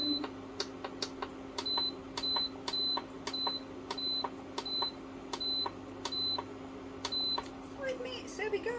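An oven timer beeps in short, evenly spaced single tones, about a dozen in a row, as its buttons are pressed to set it, with clicks and faint kitchen background noise around them.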